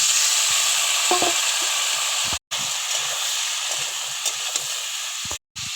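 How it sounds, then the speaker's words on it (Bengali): Chopped onion and panch phoron fry in hot oil in a pan, a steady close sizzle with soft stirring clinks, cut briefly by two sudden silent gaps. "পেঁয়াজ দিয়ে দিলাম, এবার দিয়ে দেবো পাঁচ ফোড়ন, লাল লাল করে ভেজে নেবো"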